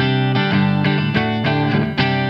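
Antiquity AQ35 semi-acoustic guitar played plugged in with the pedal off, strummed chords ringing with a bright electric tone, several strums in steady rhythm, loud and close with no voices.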